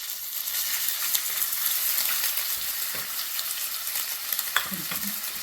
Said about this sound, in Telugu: ఇగో ఆయిల్లో ఉల్లిగడ్డ వేస్తున్నానండి